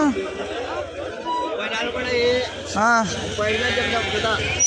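Rams bleat repeatedly at the busy Tuesday Kadiri livestock market, their calls rising over steady crowd chatter, with people talking close by throughout.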